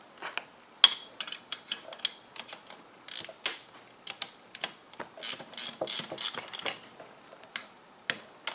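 A ratchet wrench tightens a 13 mm hex nut onto a 10 mm bolt, with flat and lock washers, on a detachable winch mount for a Badlands 2500 winch. Quick, close, irregular clicking bursts repeat alone throughout.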